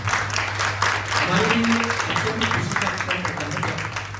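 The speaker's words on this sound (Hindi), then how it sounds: "जोरदार तालियों से आपका स्वागत।" Audience applause in a hall at a cultural evening welcoming Dr. Amrita Pahadiya, steady dense clapping for several seconds with a low hum and some voices mixed in.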